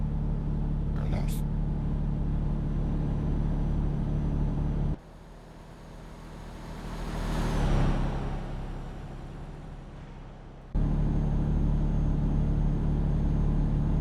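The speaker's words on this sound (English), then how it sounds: "been working on the OM470 engine, primarily for the Euro Truck Simulator 2 game" A Mercedes OM470 diesel truck engine idles with a steady, deep rumbling drone in American Truck Simulator. In the middle the tone shifts to a swelling, revving note, then the idle drone returns.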